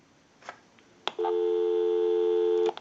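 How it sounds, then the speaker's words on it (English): Busy signal on an original model Mickey Mouse telephone: a couple of handset clicks, then a steady, loud electronic tone for about a second and a half before a final click cuts it off. "We'll call my number, and it'll be busy."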